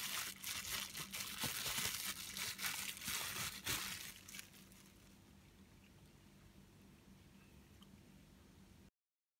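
Plastic bubble wrap around a GoPro 9 cage crinkles close up in dense crackling bursts for about four seconds, then goes quiet with only faint rustling.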